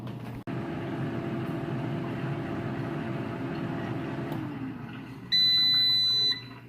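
An electric cooker beeps as steaks finish cooking: a steady appliance hum stops and a single sustained high electronic beep sounds near the end, close and clear.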